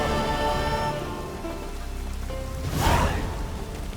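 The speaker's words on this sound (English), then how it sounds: "raining again." Rain falls in The Witcher 3, a steady broadband hiss of drops with soft music underneath and a brief louder swell near the end.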